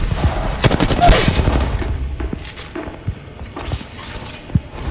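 Rapid gunfire in the battle royale game Apex Legends, with bursts of shots and sharp impacts layered over a steady, dense backdrop of combat noise, loud and close throughout.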